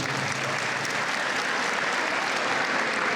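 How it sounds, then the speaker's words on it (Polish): A school hall crowd greets the school band at a school centenary with steady, dense applause, many hands clapping together close by. "Bardzo proszę gromkimi klaskami, poklaskami powitać nasz zespół."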